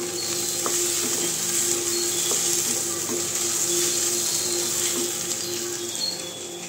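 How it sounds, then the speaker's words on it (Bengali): Okra sizzles steadily in a hot pan, a constant crackling hiss with occasional soft stirring clinks, close by and without talk. "তো এই যে ভেন্ডি ভাজা হচ্ছে"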